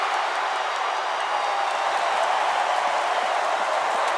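Stadium crowd at Lane Stadium during a Virginia Tech college football game, a broad sustained roar of many voices with scattered clapping, loud and unbroken throughout.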